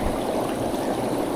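An air bubbler churns the water inside a plasma cutting table, giving a steady, close rushing and bubbling wash with no talking.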